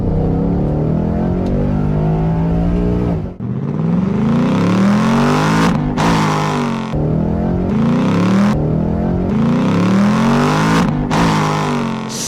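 A 2024 Ford Mustang GT S650 V8 exhaust revs hard and repeatedly up and down, loud and close, with rising pitch sweeps and a brief lift between pulls.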